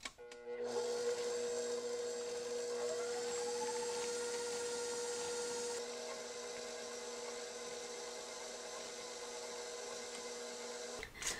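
An electric mixer whirs steadily at a low speed setting while mixing creamy cake batter for a ding dong cake, a constant motor hum that starts abruptly, shifts pitch slightly midway and stops at the end.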